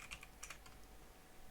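Typing on a computer keyboard, a quick burst of close key clicks in the first half with no talking, then a quieter pause over low room hum.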